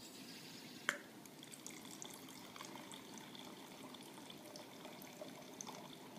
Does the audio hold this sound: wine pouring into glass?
yes